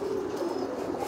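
Pigeons in a loft coo softly and continuously at close range, a low burbling call with no voices.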